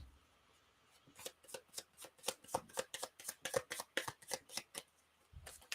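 Purple tarot cards are shuffled by hand in a quick run of about twenty crisp riffling slaps at an even rhythm, close and moderately quiet, with no talking.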